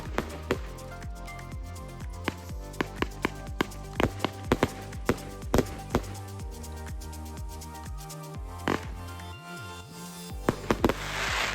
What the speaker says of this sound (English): The cake features huge golden willow brocades with colourful stars, breaks with horsetails, strobing peonies, and ends with a huge sky-filling volley of brocade chrysanthemum and breaks